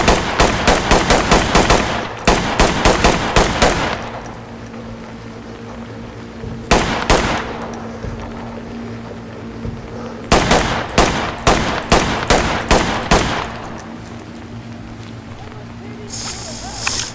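Bursts of automatic gunfire from a tactical police raid in the game Ready or Not, loud, close rapid volleys in several clusters separated by short pauses, with a steady low background hum.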